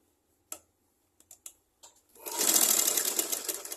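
A sewing machine stitches a garment body: a few separate clicks and taps first, then a sustained fast mechanical whirr of stitching that runs loud to the end.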